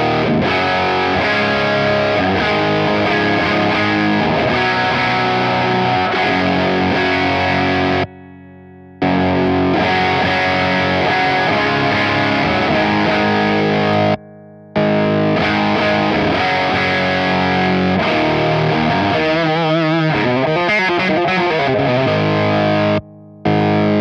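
Walrus Audio Iron Horse V2 distortion pedal on electric guitar with boosted distortion, playing loud sustained chords and riffs with brief gaps of silence between phrases and a wavering, modulated passage near the end.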